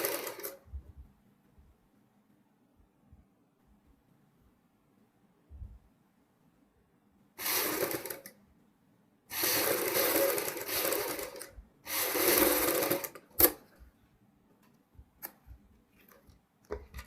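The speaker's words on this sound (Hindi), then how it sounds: "और पूरी वैन के ऊपर इसी प्रकार हम ये सिलाई कंप्लीट करेंगे।" A sewing machine stitches a front V neckline in three short runs, each a few seconds long with pauses between them. The quiet gaps hold faint handling clicks.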